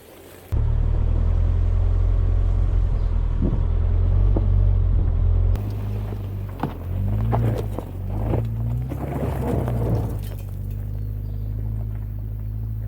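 A Subaru drives a rough gravel track through Northland forest, its engine a heavy low rumble with the crunch and knock of gravel and bumps under the tyres, close and continuous with no talk.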